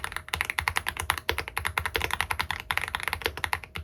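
Rapid, crisp key clicks from a Leobog Hi86 mechanical keyboard, typed in quick bursts with brief pauses, close and clear with no voices.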